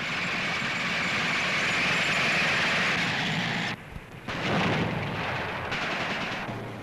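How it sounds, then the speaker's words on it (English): In battle in Indochina, French tanks fire amid a dense, continuous roar of engines and blasts. A sharp thump near the middle briefly breaks the noise before the loud rumble resumes. "Now French tanks in action"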